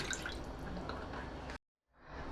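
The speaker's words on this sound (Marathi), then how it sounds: "आता मी ह्याच्यातच पाणी घालते" Water is poured into a pan of tender coconut curry to make gravy, in a steady splashing stream, then stops briefly before pouring resumes more softly.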